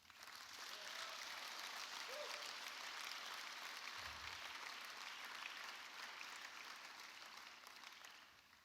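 A church congregation applauding during a Sunday Mother's Day service, a sustained, fairly even wash of clapping from many hands that swells and then slowly tapers off.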